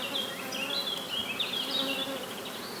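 Honeybees hum and buzz steadily around beehives near acacia trees, a close, continuous drone with wingbeats rising and falling as bees pass, with no talking.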